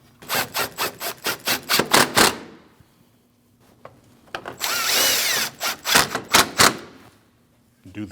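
A power drill drives grille shutter bolts on a 2014–2023 Jeep Cherokee in quick rapid bursts, a string of short whirring pulses, then a pause and a longer whine followed by more short bursts, close up.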